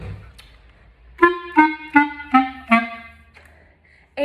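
A clarinet plays five short detached staccato notes in an even rhythm, close and clear, with a little quiet room noise before and after.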